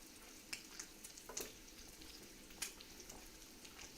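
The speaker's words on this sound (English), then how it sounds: "Stir this in." Canadian bacon being stirred into a sauce in a frying pan, giving a quiet steady sizzle with a few soft clinks and scrapes of the utensil against the pan.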